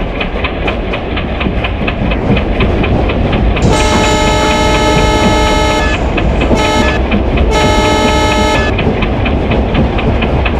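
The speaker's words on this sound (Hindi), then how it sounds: "और लोकोमोटिव का हॉर्न कैसा लगा" A locomotive horn on an Indian train simulator game, on the HWH-RXL Mithila Express, sounds three loud blasts, long, short, then long, over a constant rumble and clatter of rolling wagons.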